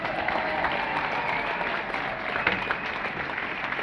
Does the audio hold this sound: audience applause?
yes